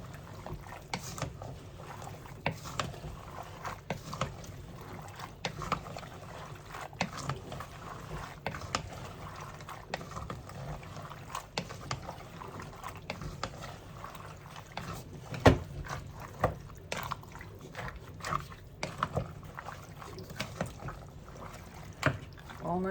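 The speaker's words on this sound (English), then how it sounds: "And we're just going to give it all a good stir." Homemade chili ingredients with pink salt being stirred in a pot, a soft continuous wet scraping and sloshing with scattered light clinks, fairly quiet and close.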